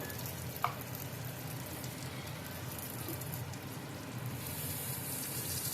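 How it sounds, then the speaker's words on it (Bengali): Ground spice masala of turmeric, coriander, cumin and chili powder fries in oil in a pan for a bhetki fish dish, giving a faint, even sizzle with a single brief clink near the start and no talking. "এবারে মশলাটাকে ভালো করে নেড়ে নেব। মশলাটা নাড়তে থাকবো যতক্ষণে মশলাটা থেকে তেল ছেড়ে দেয়।"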